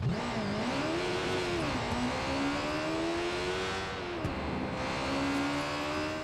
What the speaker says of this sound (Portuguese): Vou usar uma moto aqui, vamos ver como é que ela se comporta.